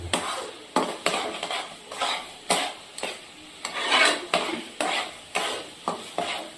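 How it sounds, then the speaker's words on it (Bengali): Rasmalai mixture stirred in a pot with a spoon, producing a regular series of close scraping strokes roughly every half second against the metal, with no talk. "এবার ভালো করে নাড়তে হবে।"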